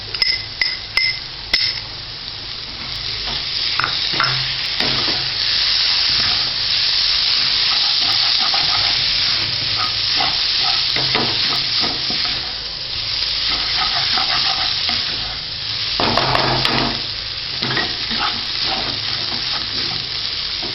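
Madurai-style kothu parotta (egg parotta) frying on a hot griddle as gravy is added and stirred in: a steady, loud sizzle runs throughout, broken by clattering metal strokes and scraping with no talking.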